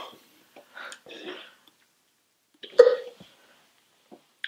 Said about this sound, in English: it's so dramatic when he hiccups